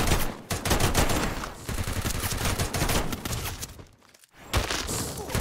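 Bursts of gunfire in the video game Garena Free Fire: loud, dense volleys of overlapping shots that rattle on for several seconds, drop into a brief lull, then resume sharply.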